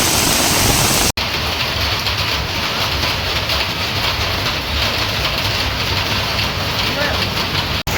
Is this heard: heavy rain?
yes